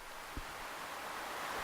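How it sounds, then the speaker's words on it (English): Soft, steady wash of water waves from Stardew Valley, a faint, continuous broadband hiss like gentle surf with no distinct breaks, heard alone at low level. "enjoy the old school water wave sort of sound"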